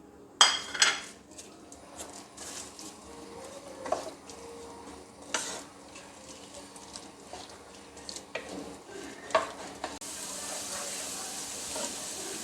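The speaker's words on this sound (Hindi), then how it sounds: "पैन में आप ऑयल डालें और इसमें प्याज डालकर इसको लाइट पिंक कर लें।" Onions frying in oil in a pan on a home stove while chicken handi is being cooked: a low, steady sizzle under clinks and scrapes of a utensil stirring against the pan, with a louder hiss near the end.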